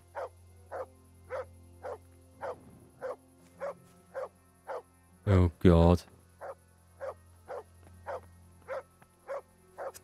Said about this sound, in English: Dog's barking like mad.